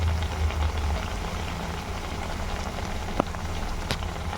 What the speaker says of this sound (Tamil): இப்போ வந்து நல்லா ஃப்ரை பண்ணிக்கோங்க.